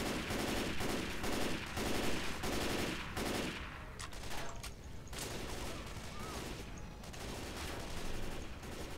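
Rapid gunfire rattles through Left 4 Dead 2's Urban Flight level, sustained automatic bursts in a fast repeating rhythm, close and dense at first, then thinning into scattered shots.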